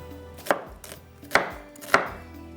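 A knife chops a large onion into pieces on a cutting board for chicken seekh kabab, three crisp close thuds spaced apart over a faint background hum, no voices.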